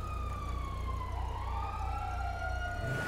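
A police siren wails in a video game chase, a loud, close electronic tone sweeping up and down over a steady engine rumble, with no talking over it.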